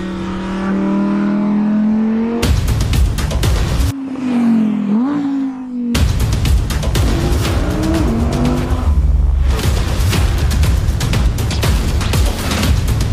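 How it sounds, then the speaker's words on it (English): An Audi R8 sports car revs hard, its engine pitch rising and falling through several sharp bursts, cutting abruptly between loud, close passes, with tire noise, without any voices. "the car, the myth, the legend, the Audi R8"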